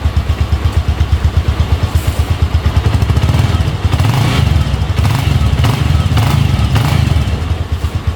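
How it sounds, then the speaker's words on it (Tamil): A motorcycle engine, smooth-running after a general service, runs close by with an even, rhythmic thumping idle, steady and loud, briefly revving in the middle without any speech. "ஸ்மூத்தாக இருக்குது இன்ஜின்"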